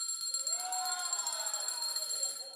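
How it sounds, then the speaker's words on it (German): A loud hand bell rings with sustained, shimmering metallic tones that waver and decay over a couple of seconds, bright and close, with no talk over it. "Ich habe die lauteste Glocke bestellt."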